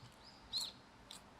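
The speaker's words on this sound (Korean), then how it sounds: "이런 새소리와 함께 먹으니까" Birds chirping outdoors on Gamaksan mountain north of Seoul, a faint distant high tweet or two over quiet ambient air.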